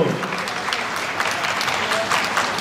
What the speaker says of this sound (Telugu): చప్పట్లు కొట్టడానికి మొహమాట పడద్దు